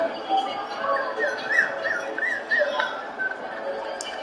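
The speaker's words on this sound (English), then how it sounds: "Got the puppies being rowdy below me here." Puppies whimper and yip in a string of high, wavering cries, moderately close, with short barks mixed in and a faint voice beneath them.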